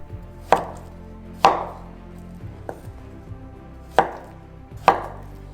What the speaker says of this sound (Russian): И нарезаем мякоть ножом.